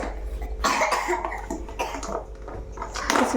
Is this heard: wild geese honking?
no